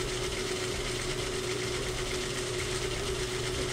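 Sewing machine slowly stitching a curved seam in cloth for a fabric bird: a steady, even mechanical whir with a constant hum, running unbroken and fairly close throughout.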